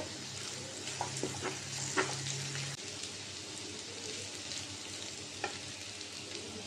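Potatoes frying in a pan, a steady close sizzle with soft crackles and light stirring scrapes, continuous and alone without voices.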